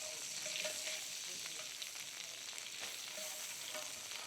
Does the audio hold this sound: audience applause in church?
no